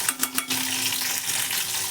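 Green chilies frying in a pan while cooking a carrot fry, a steady close sizzle with a few brief stirring clatters at the start.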